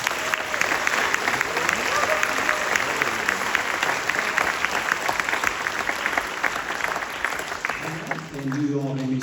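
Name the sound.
audience applause at a band concert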